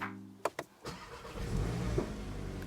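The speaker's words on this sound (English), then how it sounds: "Now this is the moment of truth to see if I can start my engine." A Volkswagen GTI engine starts: a couple of sharp clicks, then a brief crank, and the motor catches and settles into a steady, close idle with a small rev bump.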